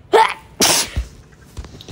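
A single sharp human sneeze bursts out close and loud, followed by a quick breathy intake and a faint second puff, with no talking around it.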